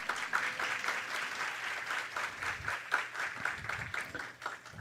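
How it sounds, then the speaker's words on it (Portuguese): A lecture audience at an electoral court event in Amazonas applauds steadily, dense clapping filling the whole stretch at an even, fairly loud level with no voices over it. "Por favor, uma salva de palmas a ela."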